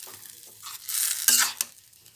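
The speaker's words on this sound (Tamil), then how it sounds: "கொதிக்க ஆரம்பிச்சிச்சு." A sweet citron pickle mixture with jaggery comes to a boil in a pan and is stirred, giving a soft sizzling bubble broken by a few scraping stirs of a spoon against the pan, close and quiet.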